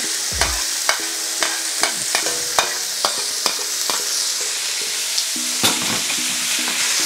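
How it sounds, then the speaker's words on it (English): Minced pork, 500 grams, browning in vegetable oil in a wok, a steady close sizzle broken by sharp clacks and scrapes of a utensil stirring against the pan, with no talking. "Now we're going to add our pork. I've got 500 grams of minced or ground pork here."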